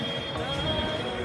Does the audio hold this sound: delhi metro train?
yes